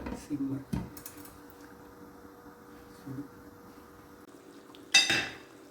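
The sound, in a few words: lid placed on cooking pot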